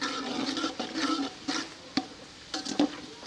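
Whole spices for vegetable pulao (star anise, black cardamom, cumin, cloves, cinnamon, bay leaf) frying briefly in a pan, with soft sizzling, stirring scrapes and a few sharp clinks of a utensil against the pan.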